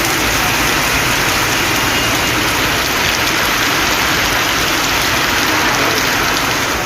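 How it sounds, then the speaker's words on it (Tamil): Heavy rain pours steadily in Thoothukudi, a loud, dense, unbroken hiss of drops on surfaces with no voices over it. "தூத்துக்குடியில் நேற்று மாலை பரவலாக மழை பெய்தது"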